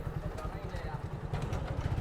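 Motorcycles idle at a toll gate on the road near Rupsa, Khulna, with a close, low, rhythmic engine putter running steadily throughout and some background noise.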